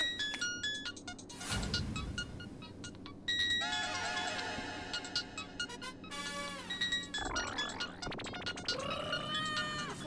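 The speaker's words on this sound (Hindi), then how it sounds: "फोन किसका बज रहा है?" A mobile phone ringtone plays a bright electronic melody in repeating phrases, loud and close, with a few sharp noisy bursts in between.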